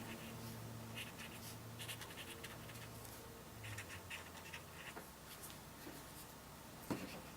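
Soft scratchy strokes of a pen on paper repeat in short bursts, quiet and close, with a light tap near the end.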